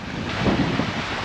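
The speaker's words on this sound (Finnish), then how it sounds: "huomaa heti, että aivan liian kova tuuli" Strong wind roars steadily across a Finnish seashore where whitecapped waves break, a dense, continuous gusting rush with a slight swell in the middle and no voices.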